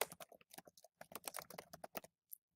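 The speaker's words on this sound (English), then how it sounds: "I'm going to type in the nickname" Rapid typing on a computer keyboard, a close, crisp stream of clicking keystrokes in quick bursts that stops abruptly, followed by one last tap.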